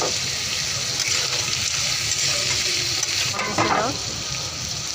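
Mushrooms frying in oil in a pan, giving a steady close sizzle throughout with some stirring and a brief watery swirl near the end, while a voice speaks briefly over it.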